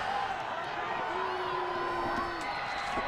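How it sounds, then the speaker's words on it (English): A high school football crowd at a Searcy game makes a distant, diffuse rumble of voices and cheers, with a faint sustained horn-like tone in the middle, all at a moderate level. "Searcy crowd trying to make a little noise."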